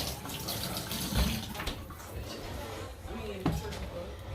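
Potatoes are rinsed under a kitchen tap, and the water gushes steadily and close throughout, with brief splashy surges as the potatoes are handled beneath the stream.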